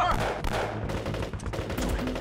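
Rapid bursts of gunfire crackle close by as enemy troops storm a village, several shots overlapping in a dense, continuous volley with a busy background.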